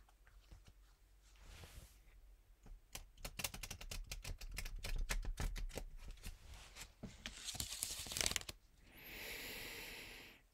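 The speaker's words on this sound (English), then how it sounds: "And then I will cut the deck and shuffle one more time." A deck of playing cards is riffled in a rapid fluttering burst, followed by a softer, shorter shuffle and a brief bridging whir, close up.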